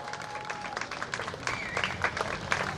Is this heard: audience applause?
yes